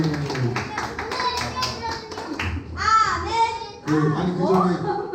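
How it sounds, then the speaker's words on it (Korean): A children's worship congregation claps in quick bursts of hand taps, mixed with children's voices and an adult speaking over the clapping. "우리 서로 축복하며 박수하겠습니다."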